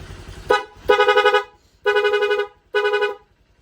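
A Honda Click 125 motorcycle's rapid horn honks in loud bursts: one short blast, then three longer buzzing toots separated by brief pauses.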